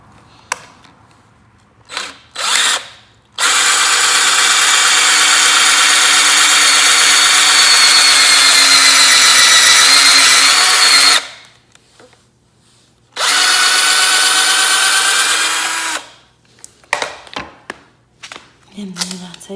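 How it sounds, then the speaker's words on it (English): A power drill bores pocket holes into a wooden platform bed frame in two long, loud, steady runs, with short bursts and handling clatter between them. "And then I hold this down and I drill in."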